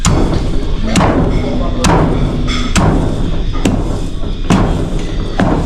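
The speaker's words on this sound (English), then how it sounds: "Keep pounding, and this is how we get it out the shells." Dried coffee beans are pounded in a mortar and pestle, giving loud, regular heavy thuds roughly once a second, close up, with crunchy rattle between blows.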